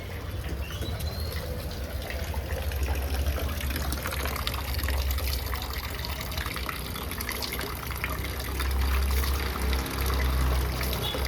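Water pours steadily from a tap in a continuous splashing stream, with a low rumble swelling near the end.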